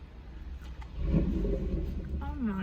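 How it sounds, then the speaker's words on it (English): A car engine idles nearby beside a McDonald's drive-through, its low rumble swelling after about a second and holding loud and steady to the end, with a brief higher tone near the close. "That was somebody's engine."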